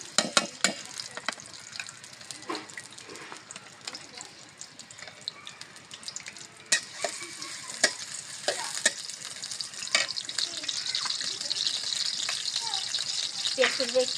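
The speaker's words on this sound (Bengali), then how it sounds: "পেঁয়াজটা কিন্তু হালকা ভাজা হয়ে গেছে" Chopped onion fries in oil in a wok, a continuous sizzle that thickens toward the end, punctuated by sharp scraping and stirring clicks, with someone talking over it.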